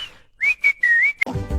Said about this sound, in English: I am whistling.